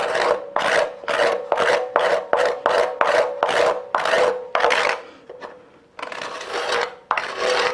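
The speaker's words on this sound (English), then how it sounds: "And I'm switching over to a scraper." A scraper shapes an elm wood bowl on the lathe: a rapid series of rhythmic rasping strokes, close and loud, then a short lull and a few longer, rougher scrapes.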